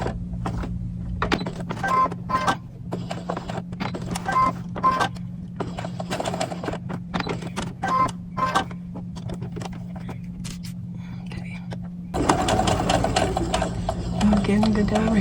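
A sewing machine stitches a fancy doll dress over a pinned spot in bursts of rapid mechanical whirring, with pauses and small clicks between runs and a louder, denser stretch near the end.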